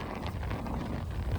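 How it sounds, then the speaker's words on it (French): Strong wind on the La Croix ski slope at Auron buffets the microphone in a steady, dense roar with low rumbling gusts and no voices. "je sais pas si vous entendez le vent mais moi ça souffle de fou"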